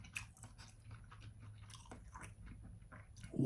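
Galbi dumplings are eaten close up, with repeated soft bites and wet chewing in a quick uneven rhythm and a firmer bite at the end.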